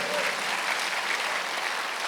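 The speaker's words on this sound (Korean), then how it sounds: "믿는 사람만 박수하세요." Church congregation clapping together during a Sunday worship service, a steady, dense wash of applause filling the whole moment without a break.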